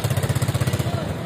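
A motorcycle engine runs close by with a steady, throbbing low chug in a fast, even pulse, holding constant through the brief moment.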